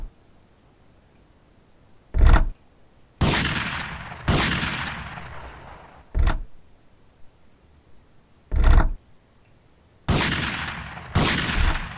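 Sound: shotgun shooting at a target in video game GTA Vice City Stories

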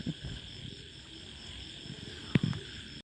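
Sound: frogs croaking near freshly planted paddy fields

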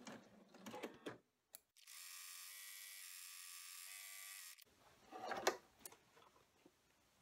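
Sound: embroidery machine running cut line stitching

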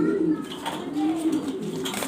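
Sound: German Beauty Homer pigeons, Andalusian color, cooing

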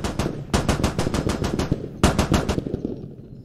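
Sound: armoured vehicle cannon gunfire in Squad video game

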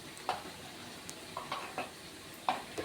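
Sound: stirring fish curry with chili powder

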